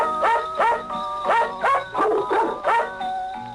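Dog barking in a steady series of about seven sharp, moderately loud barks at roughly even intervals, close by, with no talk.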